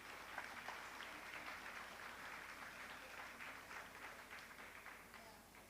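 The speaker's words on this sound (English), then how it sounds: "please give a huge round of applause to our swimming champion, Veera Prathambir of 11E." Applause from an audience at a school event honouring a swimming champion, a dense wash of clapping that stays steady, moderately distant and faint, then eases slightly toward the end.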